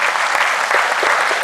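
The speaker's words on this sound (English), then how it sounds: "If we could give him a round of applause, please." Audience applause fills a school senior awards ceremony hall, a dense, steady wash of many hands clapping at once, loud and continuous for its whole short span with no voices over it.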